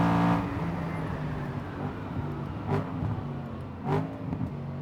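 BMW E92 M3 engine running hard on track at the Nürburgring, a steady loud in-car drone with two short rising rev bursts near the end, shod on Nankang CR-S tyres.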